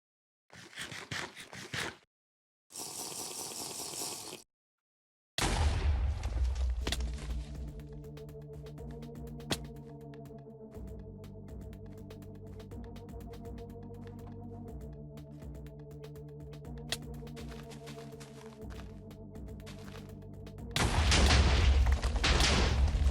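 Gunfire from a BedWars video game: after a few short bursts, sustained shooting runs under steady game music, ending in a louder burst of shots.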